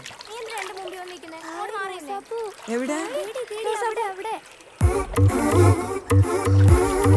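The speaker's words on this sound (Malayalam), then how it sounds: "മൂത്തേക്ക് വെള്ളം തെറിപ്പിക്കില്ലേ?" Water splashes loudly and repeatedly during bathing, starting abruptly after a stretch of lively conversation, with voices continuing over the splashing.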